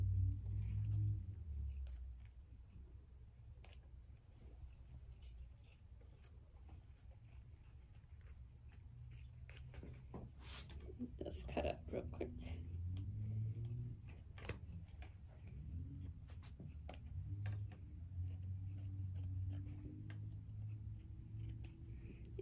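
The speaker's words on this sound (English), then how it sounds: "I'm going to cut the fabric and the cutaway stabilizer that's under it." Double curved scissors snip through fabric and cutaway stabilizer in scattered soft clicks and crisp cuts over several seconds, close and quiet, with a faint low hum underneath.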